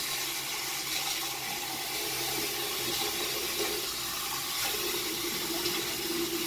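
Water runs steadily from a tap into a sink, a continuous rushing splash at moderate volume with no voices.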